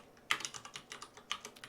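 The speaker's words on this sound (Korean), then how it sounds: "저희가 이제 연습 삼아서 다시 한번 타이핑을 한번 해보도록 하겠습니다" Keys tapped on a computer keyboard while code is typed in Python, a quick irregular run of light clicks with two sharper strokes standing out, close and fairly quiet, with no voice over it.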